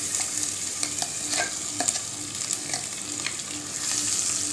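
Misal masala sautés in hot oil while being stirred, a close, steady frying hiss punctuated by brisk spatula scrapes and taps across the whole stretch, with no speech.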